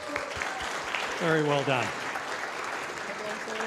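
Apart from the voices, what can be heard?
applause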